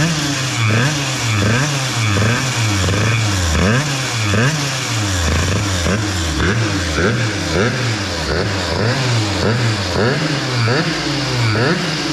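A Peugeot 103 T6 moped engine revving steadily and loudly up close, its two-stroke buzz rising and falling in quick repeated surges throughout.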